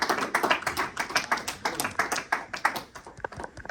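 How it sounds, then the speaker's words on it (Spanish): A church congregation claps together in quick, dense bursts, a fairly faint and close applause that keeps a loose rhythm and thins out toward the end. "demos un fuerte aplauso al Señor por su palabra"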